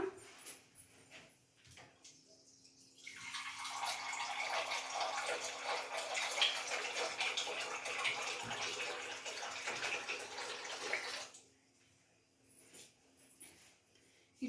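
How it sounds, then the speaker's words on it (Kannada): Water poured steadily into a pan of thick coconut-based crab masala, a loud continuous splashing pour lasting several seconds, then stopping, with quieter kitchen sounds before and after. "ನಾನು ಇದಕ್ಕೆ ಇನ್ನೊಂದು ಸ್ವಲ್ಪ ನೀರು ಹಾಕ್ಕೊಳ್ತಾ ಇದ್ದೀನಿ"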